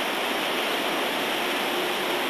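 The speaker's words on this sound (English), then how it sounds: "As you can see, this road is completely underwater. That is the good old Fraser River." Floodwater from the high-running Fraser River at Quesnel rushes in a steady, loud, unbroken roar, close by, with no voices.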